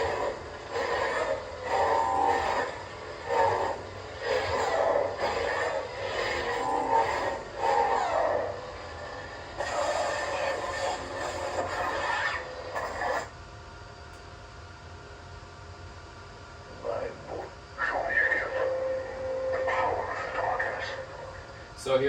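A lightsaber fitted with the unstable Darkness V3 sound font from Kyber Phonic crackles and hums, with aggressive bursts and swings and a quieter steady hum mid-way. It sounds fairly close, and no one talks over it.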